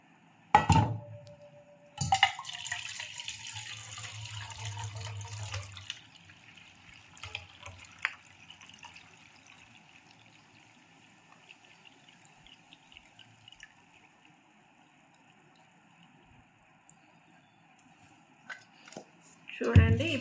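Water splashes and pours into a vessel of whole turmeric roots for washing for a few seconds, followed by quieter drips, clinks of the container and faint kitchen sounds.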